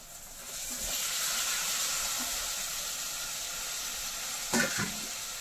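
Masala sizzles steadily in a hot pan as it is sautéed, a continuous close hiss of frying that swells early and holds, with a brief clatter of stirring near the end and no talking.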